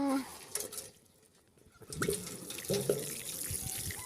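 Water poured onto a durian tree, a faint splashing trickle that stops briefly and then returns as a fuller pour with drips. Someone talks over parts of it.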